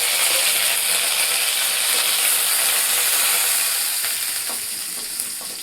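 Tempering spices crackle and hiss in hot oil, a loud, steady close-up sizzle that eases off a little toward the end.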